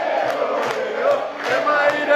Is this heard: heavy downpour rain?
no